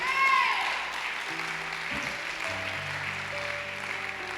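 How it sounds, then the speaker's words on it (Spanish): Church congregation clapping together in a sustained burst of applause, with a voice and sustained keyboard or organ notes over it. "Puedes darle un aplauso más grande al Señor."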